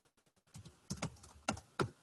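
Computer keyboard typing, a few soft taps followed by louder, irregular keystrokes, close and isolated with no talk.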